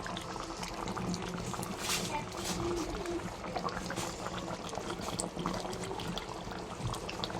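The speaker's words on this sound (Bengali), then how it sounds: "একদম লাল লাল ঝাল ঝাল টকবক টকবক করে ফুটছে" A pot of fiery red mutton curry bubbles at a steady boil with a soft, continuous gurgle and popping. A quiet voice is faintly present beneath the simmering.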